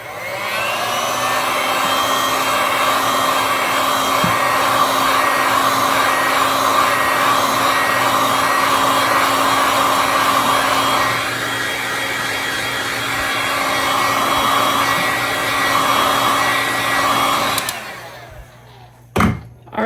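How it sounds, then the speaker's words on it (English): Heat gun blowing steadily over fresh epoxy resin on a spinning tumbler, a loud continuous airy whoosh with a faint motor whine that holds for most of the stretch before cutting off near the end. "I'm just gonna grab my heat gun and go over it"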